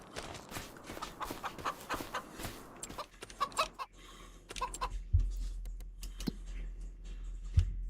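Farm chickens in Farming Simulator 25 cluck and chatter in irregular bursts, busy at first and thinning out, with a low rumble of rain or ambience building underneath later.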